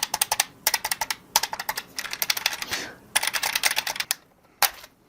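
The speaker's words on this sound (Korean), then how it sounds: "이렇게 구매를 한 기계식 키보드 계산기" Keys on a calculator built like a mechanical keyboard are pressed in rapid bursts of crisp, clacky clicks, up close and loud, with short pauses between runs.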